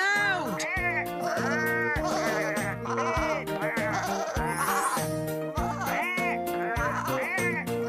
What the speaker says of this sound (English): But poor Daisy found the sheep a bit too loud